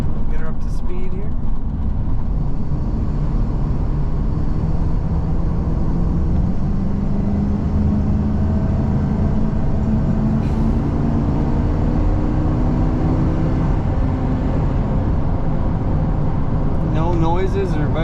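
A 2000 Ford F-250 XLT Super Cab 4x4 pickup with automatic overdrive transmission accelerates up to speed, a steady low engine drone and road rumble from inside the cab, with someone talking over it.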